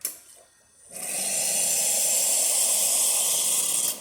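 Lucca La Spaziale Mini espresso machine dispensing hot water: after a quieter first second, a steady, loud hissing rush of water and steam runs without a break to the end.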